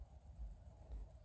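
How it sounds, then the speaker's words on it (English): Crickets chirp at night in a steady, high-pitched pulsing rhythm that runs the whole time, with a faint low rumble underneath and no voices. "17 kilohertz is the crickets going off"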